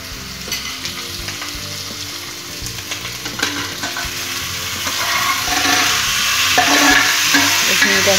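Taro and peas seasoned with turmeric fry in a pan for an Assamese sour taro curry, a steady crackling sizzle with occasional stirring scrapes that grows louder and denser toward the end.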